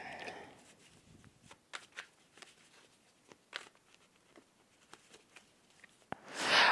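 Tarot cards being shuffled and drawn at close range: a few short papery slides and soft taps and flicks spread across a quiet room, ending in a brief louder rustle.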